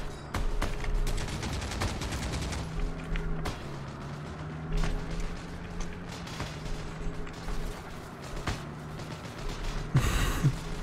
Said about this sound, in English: Getting shot from behind, mate.